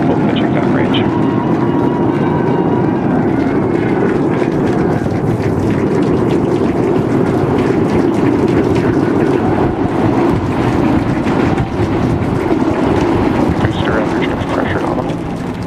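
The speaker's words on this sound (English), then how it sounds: "We are seeing 33 out of 33 Raptor engines ignited." SpaceX Starship with all 33 Raptor engines firing during launch, a dense, continuous low roar with crackling rumble heard steadily and loud throughout, with a voice talking over it.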